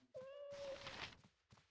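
A cat meows once in the video game Baldur's Gate, a clear drawn-out meow followed by a short burst of noise and faint talking.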